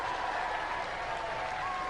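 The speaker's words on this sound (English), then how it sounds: "Give him a round of applause, ladies and gentlemen" Steady applause from a studio audience at a robot combat competition, a dense wash of clapping that runs evenly at moderate loudness throughout.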